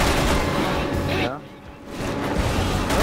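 Dense, continuous gunfire and explosive booms from the Resident Evil 6 video game during a helicopter chase. The blasts fill the first second, drop off briefly in the middle, then build back up loud and steady. A voice talks over part of it.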